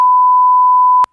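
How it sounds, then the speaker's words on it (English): A single steady censor beep, a pure electronic tone held for about a second and cut off abruptly, loud and alone. "we're just going to beep you there"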